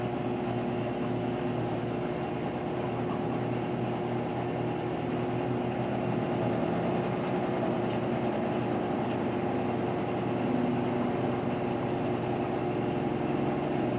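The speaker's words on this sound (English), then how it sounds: "We are about to find out right now as it is speeding up." A GE washing machine on a normal cycle, its drum spinning up with a steady, droning mechanical whir and hum that holds nearly constant, heard close and alone.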